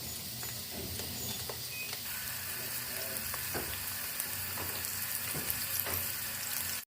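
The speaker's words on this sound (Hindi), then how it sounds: "अब इसमें हम प्याज डालेंगे और इसको हम फ्राई कर लेंगे प्याज को।" Chopped onions fry in hot cooking oil, a steady, close crackling sizzle with scattered pops and faint stirring, continuous from start to finish.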